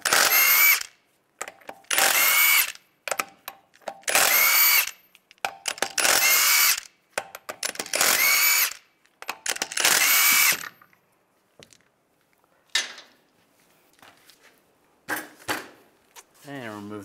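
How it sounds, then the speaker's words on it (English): A power tool with a 22 millimeter socket spins the wheel lug nuts off a 2007-2013 Chevrolet Silverado. Loud, close whirring bursts repeat about every second or two, followed by quieter clinks and handling noises. "take the lug nuts off."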